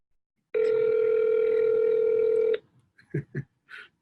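A steady telephone dial tone holds for about two seconds on an outbound sales call, then cuts off into a few short beeps of dialing, clear and close with no voices.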